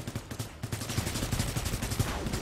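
Rapid bursts of automatic turret gunfire in the sci-fi shooter game Guardians of Orion, a dense, steady chatter of repeated shots lasting throughout without pause.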